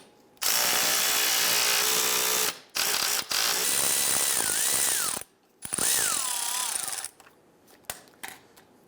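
A ratchet fitted with a 10mm socket loosens a bolt on a 1995–2001 Ford Explorer during radiator work, giving loud, close, rapid clicking in several bursts separated by short pauses.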